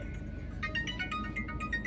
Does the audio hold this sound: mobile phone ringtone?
yes